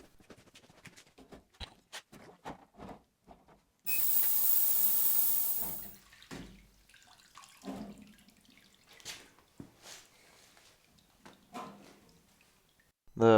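Crusty river junk dropped into the water of a Vevor ultrasonic cleaner: scattered small clicks and clatter, then a loud two-second burst of hissing spray, then more light knocks.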